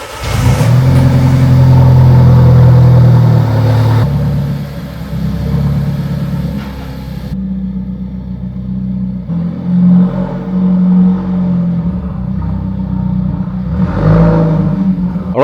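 An Alfa Romeo 4C sports car's engine revs loudly up close, then settles into a lower, uneven rumble with a few more rises as the car is pulled out.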